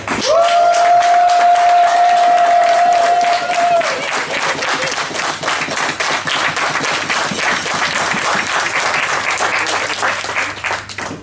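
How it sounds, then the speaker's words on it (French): Enthusiastic applause from a crowd, steady and sustained, with a brief whistle or cheer near the start. "encore un grand applaudissement à tout le monde ici"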